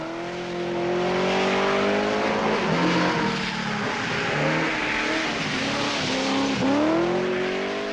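A 1979 Triumph TR7 rally car races through a snowy, icy forest stage, its engine revving hard and rising and falling through gear changes, loud and sustained with a brief squeal near the end.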